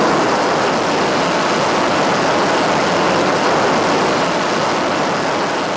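A Navy F-14 Tomcat fighter jet roars at full power on takeoff, a loud, dense, unbroken engine blast that fills the whole clip with no voices.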